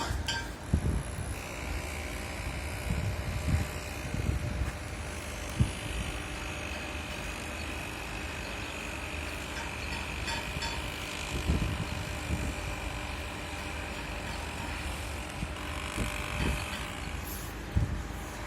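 Generators humming outdoors in a town center, a steady mid-level mechanical drone with a high whine on top and scattered low thumps and street noise in the background.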